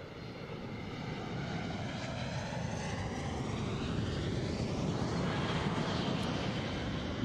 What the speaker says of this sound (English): As the aircraft approaches from your left to right, please notice the upturned wingtips or winglets.